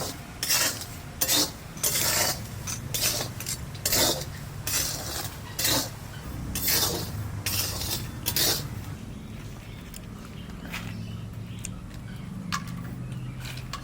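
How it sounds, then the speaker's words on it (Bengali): Homegrown peanuts are roasted in a pan, with repeated scraping and stirring strokes in irregular bursts, rasping and clattering against the metal over a low background hum. "আমি বাদাম ভাজা করি"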